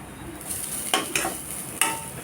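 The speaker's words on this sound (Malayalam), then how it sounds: "നല്ലോണം ഇളക്കി കൊടുക്കാം ഇതൊന്ന് നല്ലോണം ഒന്ന് വഴന്ന് വരട്ടെ" Softened onion and grated coconut are stirred and sautéed in a pan, a low frying hiss broken by three sharp spoon scrapes against the pan.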